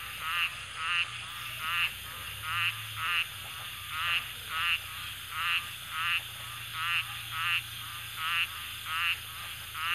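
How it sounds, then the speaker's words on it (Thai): Frogs croak in a rhythmic, evenly spaced series of calls at night in a rural frog-hunting setting, clear and fairly close over a steady insect-like background hum. "บรรยากาศตอนกลางคืนครับเสียงกบเสียงเขียด"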